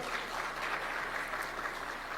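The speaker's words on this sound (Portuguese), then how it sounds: "Peço uma salva de palmas para ele, com a equipe dele, Dr. Tony" Steady applause from a crowd at a bioeconomy event in Amapá, Brazil, a continuous wash of clapping at moderate level with no voices over it.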